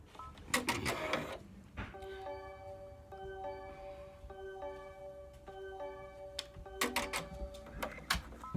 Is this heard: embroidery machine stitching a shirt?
yes